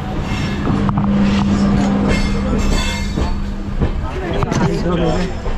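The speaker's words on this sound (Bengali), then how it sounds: "এখন ট্রেন যেহেতু ছেড়ে দিল" Inside an Indian Railways passenger train running from Omkareswar to Indore, a loud rolling rumble and wheel clatter carry on with a sustained squealing tone, while passengers' voices mix in around it.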